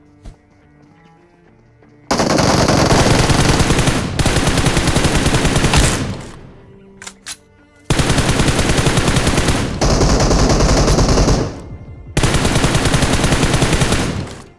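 Automatic gunfire in the battle royale video game BGMI, several long loud bursts of rapid shots lasting a few seconds each, separated by short pauses, close and dominant.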